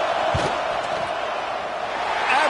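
Steady roar of a stadium crowd before a field goal attempt in NCAA 26 Football, a loud, continuous wash of cheering and noise with a few sharp thuds standing out.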